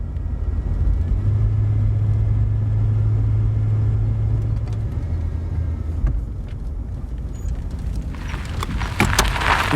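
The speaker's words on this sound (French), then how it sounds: "la voiture roule encore quelques mètres avant de s'arrêter sur le bas-côté" A car rolls along a road with a continuous low engine and tyre rumble up close, easing slightly toward the end, where scattered sharp clicks and rustling noises appear.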